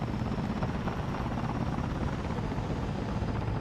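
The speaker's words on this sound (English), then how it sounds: "I'm hearing the helicopter going?" A helicopter in the video game Ares at War drones steadily throughout, a loud, continuous rotor and engine roar that holds an even level with no talk over it.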